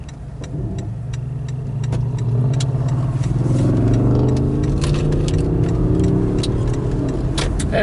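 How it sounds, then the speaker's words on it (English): A car driving through traffic on the way to a mobile home park, with a steady engine drone that swells as the car speeds up, plus faint ticking and rattling inside the cabin, no talk. "Traffic works out just so that it's hard to get across here."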